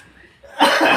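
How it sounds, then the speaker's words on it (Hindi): A single short cough bursts out abruptly after a moment of near silence. "अब भाई मुझे खांसी हो गई है"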